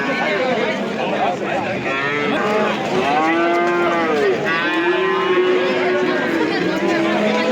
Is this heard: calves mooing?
yes